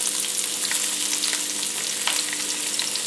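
Onion frying in olive oil in a pan, with a steady bright sizzle and small crackles throughout and no voices.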